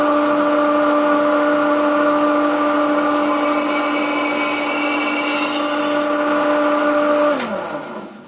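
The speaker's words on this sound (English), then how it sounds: "we try the Banggood cobalt drill bit" A Banggood cobalt drill bit bores into oiled steel, giving a loud, steady high-pitched whine with a sustained tone that holds for several seconds, then drops and winds down near the end.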